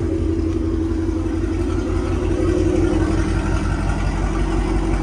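A Ford Mustang with catless long-tube headers and a Corsa Xtreme exhaust idles nearby, a loud, deep, steady rumble with a rough pulsing lope that holds for the whole stretch.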